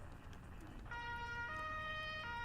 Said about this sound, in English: Turn on my siren and my lights.